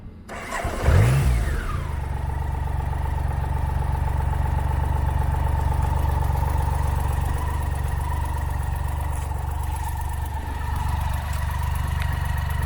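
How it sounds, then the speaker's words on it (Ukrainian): A BMW K75 three-cylinder motorcycle engine starts with a quick rising rev, then settles into a steady, loud idle that runs on continuously. "Трьохциліндровий моторчик."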